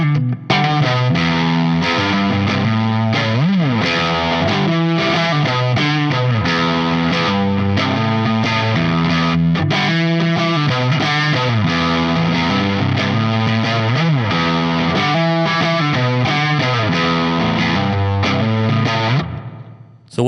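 An electric guitar through a JHS Kilt overdrive pedal plays gritty chords and riffs continuously, the tone staying loud and distorted throughout before cutting off at the end.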